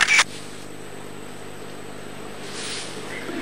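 A phone camera shutter clicks once, a short sharp snap at the start as a selfie is taken on an Oppo camera phone, followed by quiet room hum and a faint swell of background noise.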